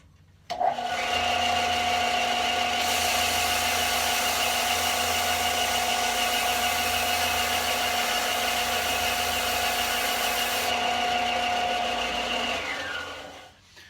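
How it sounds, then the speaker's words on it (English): Power sander working on the bottom side of a handmade cigar box guitar body, a steady, loud, close whirring drone that runs continuously for about twelve seconds before winding down, with no talking. "I'm going to sand the bottom side of this thing down. And that's where the sander comes in handy."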